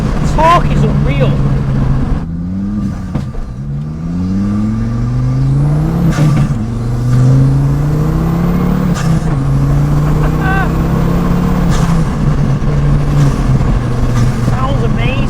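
A 2.5-litre five-cylinder engine swapped into a Ford Escort pulls hard through the gears, its loud rising revs sweeping up in repeated pulls with brief gaps at each shift, close and continuous for the whole stretch.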